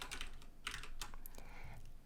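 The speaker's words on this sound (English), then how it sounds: "We can start typing" Rapid typing on a computer keyboard while coding in Visual Studio: quick bursts of close, crisp key clicks with short pauses between, steady and moderately quiet, no voices.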